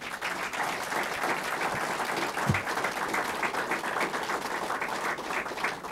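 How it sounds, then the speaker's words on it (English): Applause at a police promotion ceremony, with a dense, steady round of clapping from a crowded room that holds level for several seconds, moderately loud and with no voices over it. "Let's give him one more round of applause."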